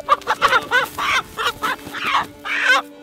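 A caught bird squawks and clucks in loud, rapid bursts close by, several harsh calls in a row as it struggles, with no talking over it.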